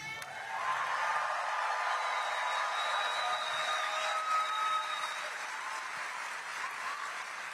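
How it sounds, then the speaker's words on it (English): An audience at a Brooklyn College event gives a sustained round of applause for a speaker, an even, full wash of clapping from a crowd that holds steady for several seconds, with no speech on top. "Can we hear a round of applause for Luis?"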